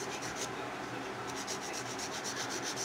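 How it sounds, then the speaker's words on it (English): Acrylic nails being worked over with a hand nail file give a steady, close, continuous rasping rub, strokes running together with faint rhythmic pulses and no talk. "So as you can see, filing does take some time."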